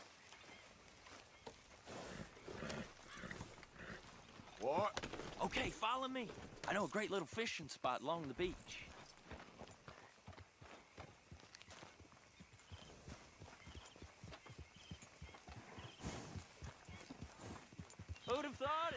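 Horse hooves clip-clopping in Red Dead Redemption 2, a steady rhythmic walking gait that runs throughout under conversation between characters, with louder, closer hoof hits in the middle stretch.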